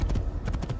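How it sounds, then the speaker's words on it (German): Horse hooves clip-clopping at a steady ride through the Kingdom of Jerusalem in Assassin's Creed, a continuous close rhythmic clatter of hoofbeats. "wir reiten hier durchs Kingdom"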